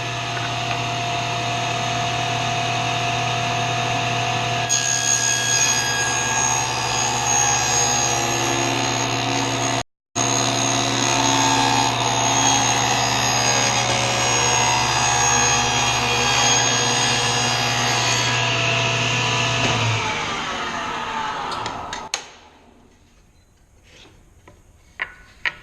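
A power saw runs steadily while cutting a dado into a wooden board, a loud continuous whine with a brief break, then winds down and stops near the end, leaving quiet.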